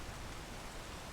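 Soft, steady rain hiss, an even wash of falling drops with no breaks, faint and alone.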